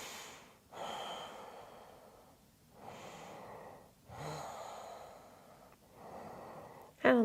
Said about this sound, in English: A couple of breaths here.